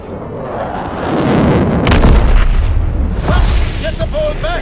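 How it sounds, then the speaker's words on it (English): Launch of a V2 rocket and heavy explosions in the WWII shooter Call of Duty: WWII, with loud rumbling booms rolling through the whole clip and sharper bursts near the end. "Launching V2 rocket!"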